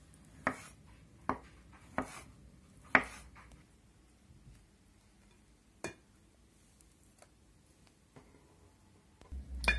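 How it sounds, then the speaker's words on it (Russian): Knife slicing avocado into thin pieces on a cutting board, a handful of sharp close chops spaced irregularly, then quiet with light handling noises. "Авокадо просто порежу вот так на три части и вот такими пластиночками"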